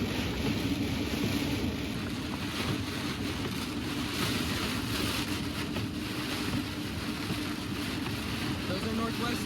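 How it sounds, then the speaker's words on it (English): Storm wind whips across a road while chasing a potential tornado, a steady, roaring rush of gusts buffeting the microphone throughout at an even loudness. "The wind's whipping across the road."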